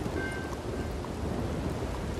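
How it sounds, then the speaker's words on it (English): Steady rain with low thunder rumbling in the video game Red Dead Redemption 2, a constant dense hiss without clear breaks or pauses. "But it started to rain."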